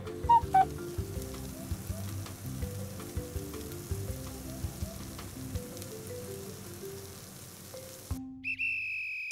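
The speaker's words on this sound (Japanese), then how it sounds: "5分経ったらひっくり返してさらに5分蒸し焼きにします。" Chicken tenderloin steam-fries in a covered pan, giving a soft, steady sizzle and faint crackle with occasional small pops, fairly quiet throughout before a brief clatter near the end.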